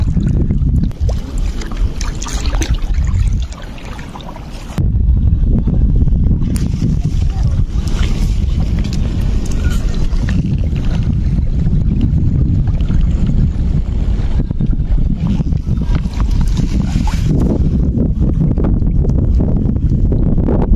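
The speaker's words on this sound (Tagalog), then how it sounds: "Hangin." Strong wind on an island shore at night roars and buffets the microphone almost continuously, dropping briefly before surging back loud and close.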